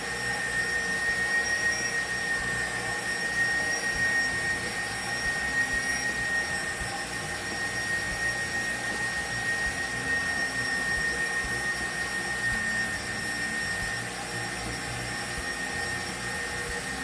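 A KitchenAid stand mixer fitted with the Gourmet Pasta Press extrudes rigatoni, its motor giving a steady, continuous whine and hum that stays fairly loud and even throughout, with no talking.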